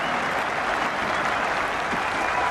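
A cricket crowd at an Ashes test match applauds steadily, a dense even wash of clapping from a large distant stand without pause.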